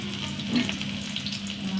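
Small shallots frying in a teaspoon of hot oil give a steady, close sizzle with a constant crackling hiss throughout, alone with no talk.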